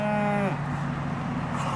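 Beef cows on a Litchfield County, Connecticut pasture at sunset give a single loud, close moo that holds steady and then drops into a lower drawn-out groan, with no other sound around it.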